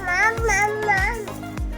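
A baby babbles and coos in sing-song, pitch-wavering vocal bursts, close and fairly loud, in a home kitchen where baby pap is being prepared, with soft low thumps underneath.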